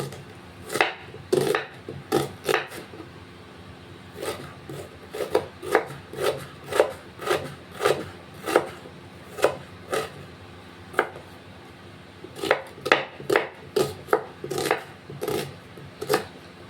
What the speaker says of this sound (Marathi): कांदा कट करताना थोडा बारीकच कट करायचा।